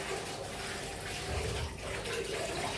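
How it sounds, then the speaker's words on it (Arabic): Rice being rinsed under a running tap: a steady, close rush of water pouring and splashing without a break for a few seconds. "لازم نغسله كده كويس الرز"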